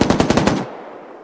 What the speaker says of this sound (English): Op4 made first contact and has actually utilized one of these M2 guns that we have in the area